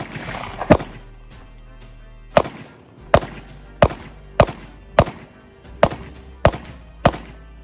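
A Smith & Wesson CSX pistol fires about nine sharp, separate shots at an outdoor range, fairly loud and close, at an uneven pace of roughly one per second.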